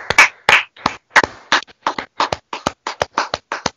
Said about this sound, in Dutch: een applaus voor de mensen die nog geen applaus hebben gehad